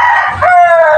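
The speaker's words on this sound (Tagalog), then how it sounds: "Ang ingay ng mga manok mga boss" A rooster crows loudly and close, a drawn-out harmonic call, with clucking from other chickens underneath.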